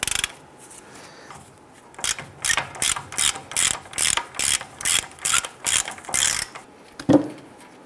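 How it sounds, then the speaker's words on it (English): A ratchet with a 21 mm socket loosens a tie rod nut on a 2002-2008 Dodge Ram 1500. About a dozen rhythmic, close clicking bursts follow a quiet start and end with a final knock. "go ahead and loosen this nut."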